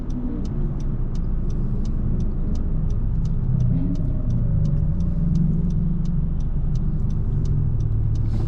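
A car rolls past on a road in Pigeon Forge, its steady engine rumble and tire noise holding close and even throughout, with a regular faint ticking repeating above it.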